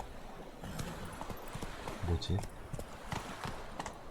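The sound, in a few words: horse hooves clip-clopping, Roach in video game The Witcher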